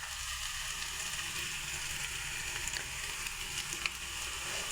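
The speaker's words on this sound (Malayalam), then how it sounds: "ഇനി ഇതിൽ നമുക്ക് മുളക് പൊടി ഇട്ട് കൊടുക്കാം." Chicken curry sizzles steadily in a hot pan as chili powder goes in, a constant close crackling hiss with small pops and no talk.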